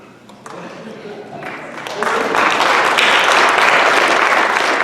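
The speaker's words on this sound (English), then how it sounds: "So a lot of the students are clapping because they know who he is" Students in a panel audience clap, the applause swelling from a light patter into a dense, sustained ovation that stays loud to the end.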